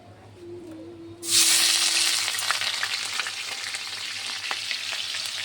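Onion paste hits hot oil in a pan on a gas stove with a sudden loud sizzle that starts abruptly and then settles into a steady crackling hiss with scattered pops.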